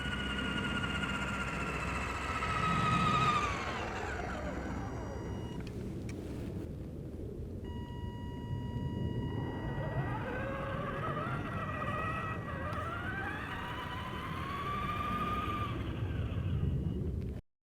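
A brushed motor on a Redcat Blackout RC car runs steadily through break-in, a continuous whirring drone with rising and falling whine tones, close and fairly loud, with no voices.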